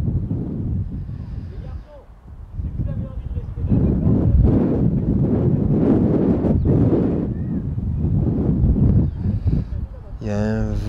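Wind gusts buffet the microphone on a riverbank during feeder fishing, a loud continuous roar that swells and fades, with someone speaking over it.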